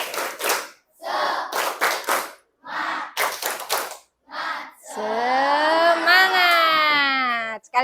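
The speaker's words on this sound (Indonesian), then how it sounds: "Kita semangat dulu. Tepuk semangat." Children in a school classroom clap out the tepuk semangat rhythm in several quick bursts of rapid hand claps with short pauses, then break into loud, drawn-out group chanting.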